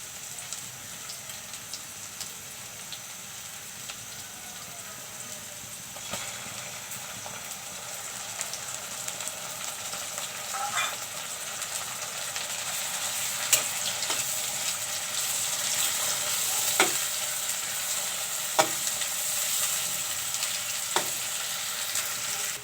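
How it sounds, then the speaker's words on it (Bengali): Fish belly pieces fry in mustard oil in a pan, a steady sizzling, crackling hiss with occasional sharper pops and spatters growing slightly livelier over time. "মাছের প্যাটাগুলো আমি এখানে তেল দিয়ে ভাজবো"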